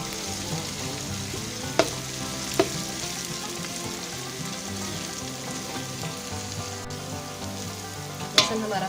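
Garlic and ginger paste frying in oil in a pot for beef Afghani pulao gives a steady, close sizzle with a few sharp clicks, and no one talks.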